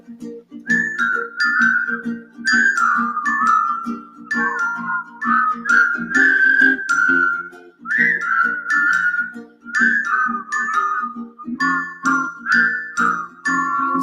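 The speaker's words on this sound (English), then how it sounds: "You whistle a while, and I'll whistle a while in warm or wintry weather." Several people whistle a bright, simple tune together in steady phrases, the melody rising and falling over a soft low accompaniment that continues beneath it for the whole stretch.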